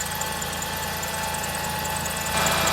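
A 1999 Ford Taurus SE engine idles with a newly fitted belt, a steady close-up mechanical hum with a low rhythmic throb that grows slightly louder near the end.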